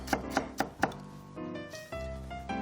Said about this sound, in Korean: 조금 얇은 듯하게 네. 썰어주십니다